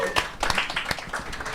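An audience at a live anniversary show breaks into a short burst of clapping, a quick patter of hands over a faint murmur.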